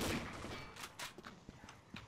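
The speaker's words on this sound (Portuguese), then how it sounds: "O tiro." Gunfire in the online shooter Combat Arms comes as a scattered burst of several sharp shots, fairly quiet and spaced irregularly across a couple of seconds.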